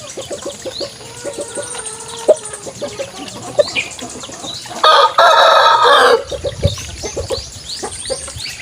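Fighting cock roosters crow repeatedly amid clucking and other farm bird calls, with a loud burst of crowing near the middle, several birds close by and no talk.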